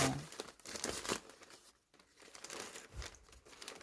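Newspaper wrapping is torn and peeled by hand from the roots of a Vanda orchid, giving close, soft crinkling and rustling in uneven bursts with a short quiet gap partway through.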